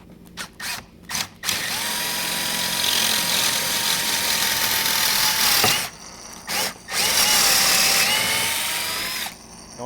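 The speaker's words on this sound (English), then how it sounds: "I'm going to drill through here." A power drill bores through wood held in a pocket hole jig: a few short trigger bursts, then two long, steady, close, loud runs with a brief pause between them.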